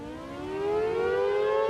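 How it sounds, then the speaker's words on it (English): A dual-tone tornado civil defense siren wails alone, its two dissonant pitches rising together and then holding steady at a loud, sustained level. "The dual tone of the tornado / air raid / civil defense sirens just has a creepy dissonance to it"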